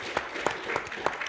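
Applause from a panel audience at the 2019 Davos forum: a quiet, brief patter of clapping with a few sharper claps standing out.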